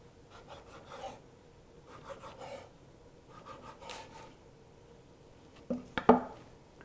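Knife cutting rolled pastry dough into strips for Greek diples (honey-dipped fried pastries), soft repeated rasping strokes across the dough, fairly quiet and close, ending in a few sharper taps on the board.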